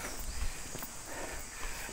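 Horse hooves clip-clop along the hilly Matheran trail, a run of uneven steps at moderate distance over steady outdoor background noise, with no one speaking.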